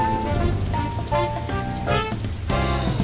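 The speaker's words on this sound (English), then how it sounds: "It's rainy!" Rain falls over a bright children's song, the patter mostly buried under loud music throughout.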